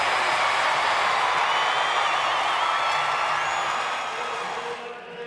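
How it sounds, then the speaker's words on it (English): A rodeo crowd at the 2017 American ShootOut barrel racing cheers in a broad, steady roar from a large arena audience, which fades gradually near the end. "Listen to this crowd."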